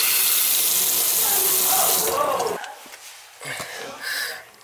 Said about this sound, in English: Toilet's filling.